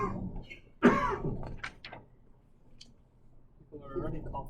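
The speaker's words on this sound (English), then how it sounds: "People are already coughing" A single sharp cough from someone in a livestream audience, followed by a softer throat-clearing sound, fairly close amid quiet room noise.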